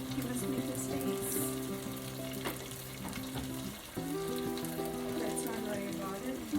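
Peanuts and potatoes fry for an aloo gobi masala in a catering-style kitchen, giving a steady, close sizzle with soft crackles, under a continuous tonal hum.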